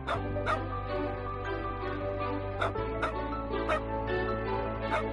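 A dog barks and yips in short repeated bursts with soft whimpering tones between them, heard alone with no talking.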